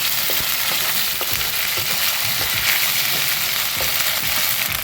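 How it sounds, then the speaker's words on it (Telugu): Ginger garlic paste frying in a pan for egg curry, a loud continuous close-up sizzle with faint occasional ticks from stirring, no voices. "చూడండి అల్లం వెల్లుల్లి కాస్త ఫ్రై అయింది."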